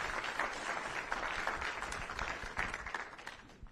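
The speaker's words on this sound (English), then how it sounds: "another round of applause for the national anthem" Audience at a military retirement ceremony for a colonel applauds, a dense steady wash of clapping from many hands that stays fairly even before tapering off at the end.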